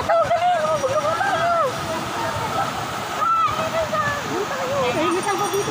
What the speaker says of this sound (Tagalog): And eto na yung falls.